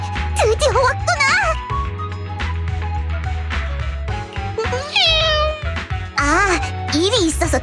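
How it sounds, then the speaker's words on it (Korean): Repeated cat meows from the video game Zenless Zone Zero, bright and upward-sliding. They come in several distinct calls over a low musical backdrop, with a voice speaking between them. "이 소리는 네코마타가 진짜 고양이로 변한 거야?"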